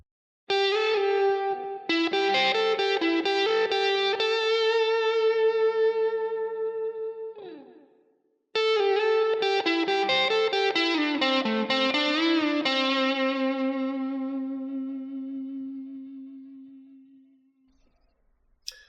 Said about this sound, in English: So this is anyway a fuzz sound for it.